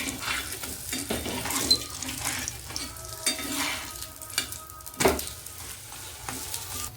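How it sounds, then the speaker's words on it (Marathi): Corn dhapate flatbread fries gently in oil on a low flame, giving a soft continuous sizzle with occasional light clinks of a utensil on the pan, close and fairly quiet, no speech. "ह्या बिळांमध्ये थोडं थोडं मी तेल टाकत आहे. धपाटे छान शिजतात तेलाने."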